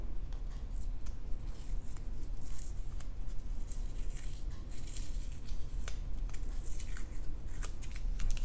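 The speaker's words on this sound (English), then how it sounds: "take the tape off." Tape is peeled off a cannagar kit mold packed tightly with cannabis, giving a steady close crackling, rustling texture with scattered sharp rips and snaps throughout, with no talking.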